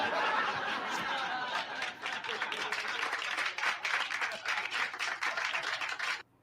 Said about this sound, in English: So you got a round of applause there.